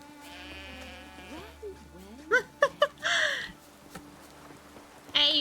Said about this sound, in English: Here, sheepy sheepy? Hey, sheep, come here.